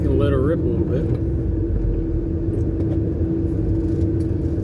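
Porsche 986 S engine pulling hard on a parkway, a steady loud rumbling drone from inside the car with a rising whine at the start, continuous throughout.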